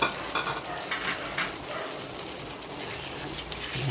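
Fried potatoes tumbled into a hot pan of igado and stirred, giving a steady close sizzle with scraping stir strokes and brief splashy bursts throughout.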